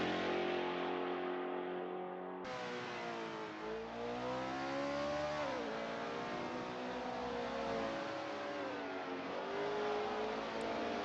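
Ferrari and Porsche race cars accelerating hard on a circuit during a three-hour Le Mans exhibition race, engines wailing loudly and continuously, pitch climbing and dropping through gear changes, with a second car joining in with a sudden rise in volume.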